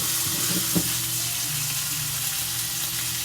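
Steak fries in a pan with a constant, dense sizzle and crackle. A brief clack of the pan being handled sounds near the start, and the frying continues loud and close throughout.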